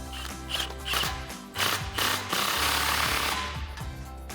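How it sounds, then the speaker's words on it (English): A socket wrench with a 15mm socket tightens an exhaust pipe clamp on a RAM 1500 pickup, giving rapid ratcheting clicks in short bursts, close and fairly loud. "you can go ahead and tighten up our second clamp here with our 15mm socket"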